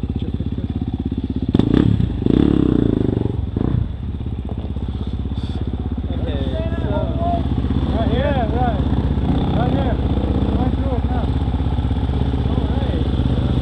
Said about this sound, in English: That was deep. That bike didn't seem to care. What is it, an XR200?